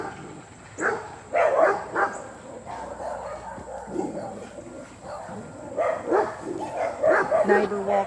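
A pack of dogs barks and yips repeatedly nearby as a neighbor passes with his dog outside a home garden, uneven bursts of barking mixed with someone speaking.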